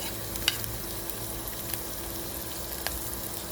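Garlic frying in hot cooking oil, a close, even crackling sizzle with small pops and a few light stirring clicks.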